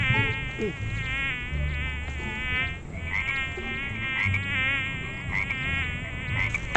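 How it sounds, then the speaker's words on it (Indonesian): Lots of flies buzz close by in a steady, wavering drone that lasts throughout, with soft rustling and low background noise beneath. "Ih, banyak lalat. Genit banget nih lalat."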